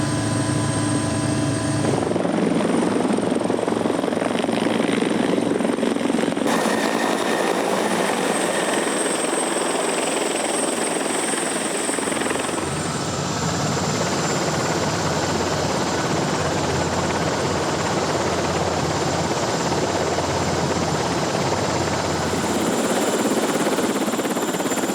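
A helicopter approaching a large ship's landing platform drones loudly and steadily throughout with a whining turbine tone and pulsing rotor throb, the pitch and texture shifting as it closes in and settles.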